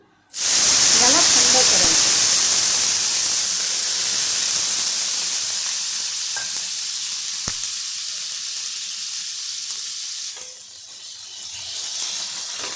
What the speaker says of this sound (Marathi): आता ह्या तव्यावर गरम पाण्याचा शिकारा देऊन